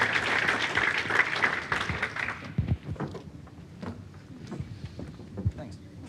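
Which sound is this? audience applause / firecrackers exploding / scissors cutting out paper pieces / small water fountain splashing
audience applause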